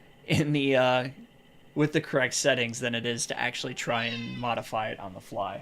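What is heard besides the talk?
cat meowing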